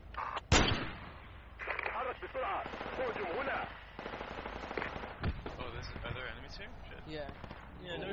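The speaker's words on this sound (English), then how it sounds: "There he goes, he's shooting again." Video game gunfire rattles off in bursts with a few heavier single cracks, set under fairly constant talk from players.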